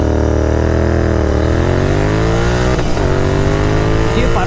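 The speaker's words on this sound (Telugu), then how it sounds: "నెక్ టు నెక్ ఉంది బైక్స్" A Royal Enfield GT 650 and a KTM Duke 390 race neck and neck on a road. Their loud engines drone together without a break and rise and fall in pitch as the riders shift and rev.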